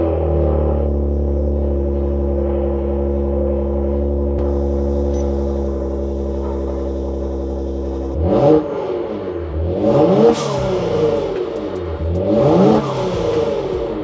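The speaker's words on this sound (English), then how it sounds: "Do some pulls so you guys can hear what the blow valves sound like." A 2023 Genesis G70 3.3T fitted with blow-off valves idles with a steady low drone, then revs hard in several pulls, each rising and falling with a loud whoosh and clatter, heard alone without talk.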